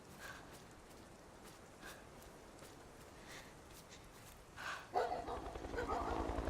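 Police dogs barking in the video game Beyond: Two Souls, a few sharp barks and yips scattered at a distance over a steady rustling background, growing louder and busier toward the end.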